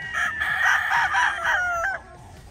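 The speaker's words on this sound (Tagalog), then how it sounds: "Tapos yan, manok na ni Airpat yun nandyan mga paps" A straight-comb gamefowl rooster crows once, a loud, drawn-out cock-a-doodle-doo lasting about two seconds, close by and clear, then quiet.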